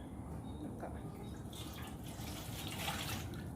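Water pours into a pot being readied for steaming chicken, a steady splashing rush that carries on throughout.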